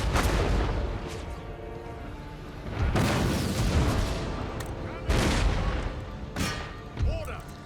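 Canister shot artillery fire in Empire: Total War, several heavy booming cannon volleys spaced a couple of seconds apart, each with a rumbling decay, loud and close amid battle ambience.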